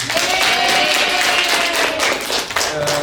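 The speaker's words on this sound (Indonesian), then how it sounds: "Tepuk tangan untuk kita semuanya." Audience applause after a class presentation, steady clapping filling the room for about three seconds with a faint tone running beneath it.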